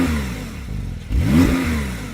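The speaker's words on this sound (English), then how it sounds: "When you press the button, it opens a valve in the exhaust, and then it sounds like this." Porsche 911 Turbo S with the sports exhaust valve open, revving hard: a steady engine note dips briefly, then surges into a loud, rising rev and holds a rich, deep exhaust growl close by, with no talk.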